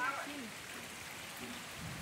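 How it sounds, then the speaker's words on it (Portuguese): Rain falling outdoors near a small waterfall, a faint continuous hiss of drops with no distinct events. "a chuva tá vindo ali já de novo"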